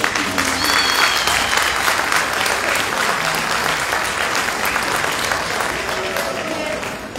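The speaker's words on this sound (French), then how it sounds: "Je vous demande donc d'accueillir avec les applaudissements le docteur Aboubakar Sidani." A large audience at an official ceremony in the Comoros, held under the patronage of President Azali Assoumani, applauds steadily to welcome a speaker. The sustained, dense clapping stays loud throughout with a faint crowd murmur beneath.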